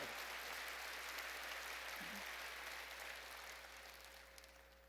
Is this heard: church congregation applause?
yes